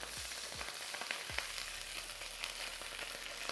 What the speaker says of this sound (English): you need to really fry that tomato paste so you can remove that raw tomato paste flavor